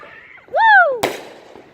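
A Fourth of July firework goes off with a single sharp bang at close range, just after a rising whistling tone, then fades into a brief rumbling tail.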